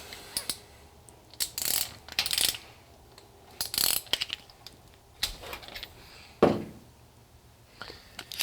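A ratchet wrench loosening a rocker arm nut on an LT1 small-block Chevy engine, heard as several short, close bursts of sharp mechanical clicking separated by brief pauses, with no talking.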